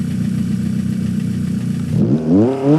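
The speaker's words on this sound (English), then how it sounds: "Has a naturally aspirated twin cam 4-cylinder," A Toyota AE86's naturally aspirated twin-cam 16-valve four-cylinder in BeamNG.Drive idles with a steady, even drone, then revs up sharply and falls back twice in quick succession.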